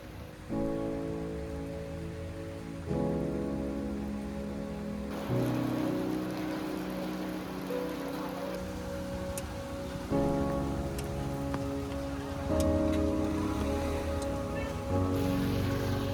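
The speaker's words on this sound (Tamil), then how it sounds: "நாங்கள் எதிர்பார்த்து போன மாதிரியே அங்கே இறங்கும் போதே நல்ல மழை" Heavy rain falls steadily at a stone temple site in Karkala, a dense continuous wash of sound with no speech, shifting slightly in intensity throughout.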